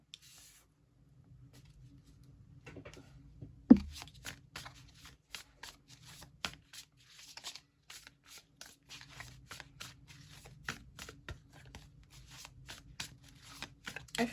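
Tarot cards are shuffled and pulled in a quiet room, with soft papery riffles and light flicks of the deck, faint and close, and no one speaking over them.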